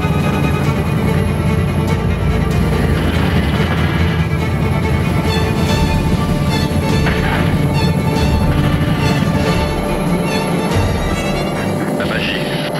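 A military aircraft taxis and rolls toward the runway for takeoff, its engine a loud, steady roar with rattles and knocks from the cabin and occasional voices underneath.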